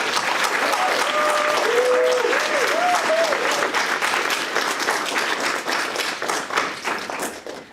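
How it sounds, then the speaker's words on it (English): A university event audience gives loud, sustained applause after a panel on diasporas, the full clapping holding steady throughout with a few faint tonal sounds mixed in early. "Let's give them a huge round of applause."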